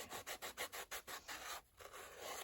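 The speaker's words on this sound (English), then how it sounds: "These are really cheap sanding blocks." Rhythmic rasping strokes of a cheap sanding block against the edge of a paper tag made from packaging, about a dozen quick back-and-forth passes, close and fairly soft, with no voices.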